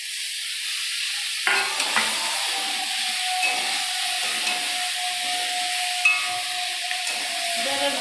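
Potatoes, pointed gourd, tomato and green chilli fry in a pan with a steady hissing sizzle, joined after a quiet start by repeated close scraping stirs and occasional light clinks.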